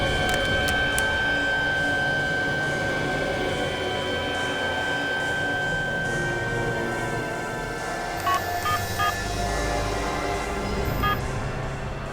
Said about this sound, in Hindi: इस सिम कार्ड को अपने मोबाइल में डालो और मेरे नंबर पे फोन करो